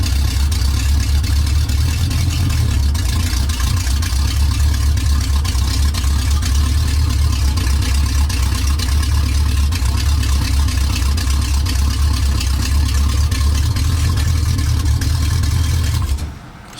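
A 1981 Pontiac Trans Am V8 idles loudly on open headers with no exhaust fitted, a steady throbbing rumble that holds for about sixteen seconds before cutting off.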